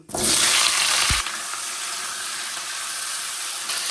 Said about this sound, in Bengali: এবার কেটে রাখা কাঁচা টমেটো আর আলু দিয়ে দেবো, দিয়ে ভেজে নেব।